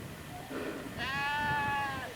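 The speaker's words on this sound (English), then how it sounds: "There's loads of sheep all barring around here." Sheep bleat near the ruins around Kielder Water, one short call followed by a louder, sustained wavering bleat close by, heard over faint outdoor background with no talk.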